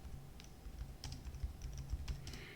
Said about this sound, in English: I'm going to type what will happen